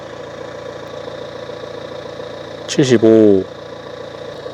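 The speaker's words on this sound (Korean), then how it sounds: "자, 이 상태에서 제가 바로 차량에 시동을 걸어 볼게요." A car engine idles with a steady, close hum, briefly interrupted by a short burst of a man's speech over the running engine.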